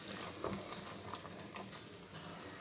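Peas and paneer curry frying in a pan while being stirred, a low steady sizzle with occasional soft scrapes and clicks of the spoon, close and fairly quiet, with no talking.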